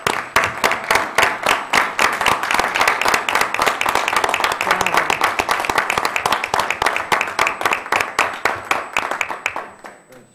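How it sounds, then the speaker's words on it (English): Applause from the audience at an Oak Park city council meeting, sustained and fairly loud with crisp individual claps throughout, fading out in the last second. "may I ask that Lori Stasiak stands up and that we give her a round of applause"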